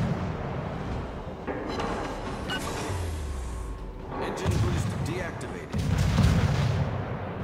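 A destroyer, the V Nicholas, fires its naval guns in World of Warships on the New Dawn map, with several heavy booming shots spread across the clip and a player talking throughout.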